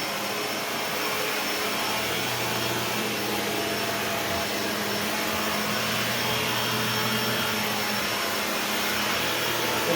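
A Shark Lift-Away ZU560 upright vacuum with self-cleaning brushroll runs steadily at close range, a continuous broadband whoosh with a low motor hum and no change in pitch across the stretch.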